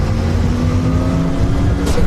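A racing car engine at a track, a continuous loud low drone holding steady and swelling slightly toward the end, with no talk over it.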